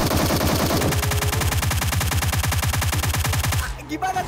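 Rapid automatic gunfire from a PUBG Mobile battle rattles in a steady, loud burst for several seconds, then cuts off abruptly into a few softer, scattered noises.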